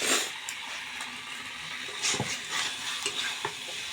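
Desi chicken cooking in a pan over a wood fire, a steady close sizzle with scraping stirs and a few sharp clicks of the utensil against the pan, no talk.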